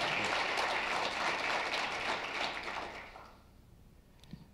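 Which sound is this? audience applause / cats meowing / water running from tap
audience applause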